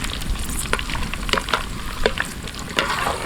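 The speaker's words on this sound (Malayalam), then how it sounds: "അതുകൊണ്ടാണ് ആദ്യം തന്നെ കറിവേപ്പില നമ്മൾ ഫ്രൈ ചെയ്തെടുക്കുന്നത്" Curry leaves crackle and sizzle in hot oil in a home kitchen, fried before jackfruit chips, a steady close hiss broken by sharp pops and spits.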